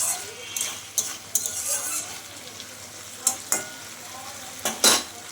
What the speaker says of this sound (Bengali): সব কিছু দিয়ে আমি তরকারিটা ভালো করে নেড়ে চেড়ে দিচ্ছি